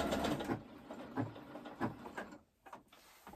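A sewing machine stitches a pleated fabric mask, running in a steady rhythmic whir with evenly spaced stitch pulses before stopping briefly near the end.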